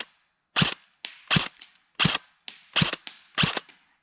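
Five sharp, evenly spaced shots from an Elite Force MP5 airsoft gun fired at a target 50 feet away, each a crisp snap with a brief tail, loud and close with no talking.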